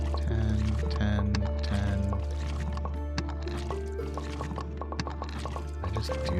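Water being collected from a well in Graveyard Keeper: gurgling, sloshing and dripping liquid over a looping musical background, moderately loud and steady, with no talking.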